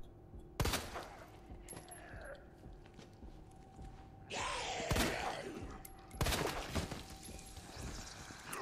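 Gunshots ring out in Resident Evil 2, with sharp, loud cracks near 0.6, 4.9 and 6.2 s, trailing echoes and clatter between them and a brief pour-like rush around 4.4 s.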